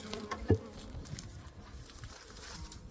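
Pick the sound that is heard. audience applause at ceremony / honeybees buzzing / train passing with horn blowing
honeybees buzzing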